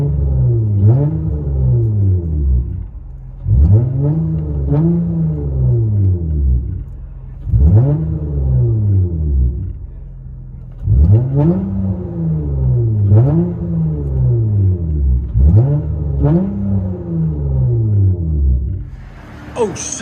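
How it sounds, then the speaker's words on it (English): A 2007 Acura TL Type S with a 3.5L V6 and 1.5-inch aftermarket pipe all the way back revs repeatedly, each loud rising and falling bark close by, about eight blips in an uneven rhythm. "That's the owner revving it, guys, by the way."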